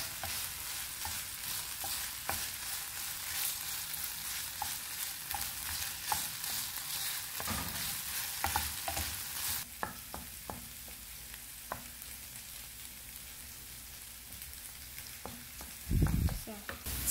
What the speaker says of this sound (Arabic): دابا ندير البصله تشحر